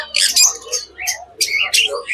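Fischer's lovebirds at the Krishnagar bird market, a busy overlapping mix of shrill squawks and chirps, close and loud, with crowd murmur beneath.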